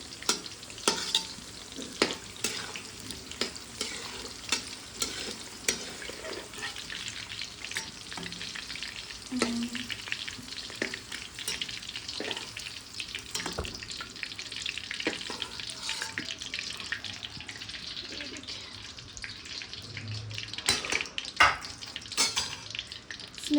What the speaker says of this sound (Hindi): मैं यहाँ पर आलू भी कट कर ली हूँ, और इसको फ्राई कर रही हूँ